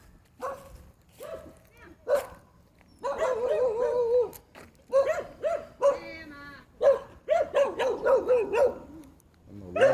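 A dog barks repeatedly in short bursts and whimpers during a tense encounter on a walk, with people talking in between and over the barking at close range.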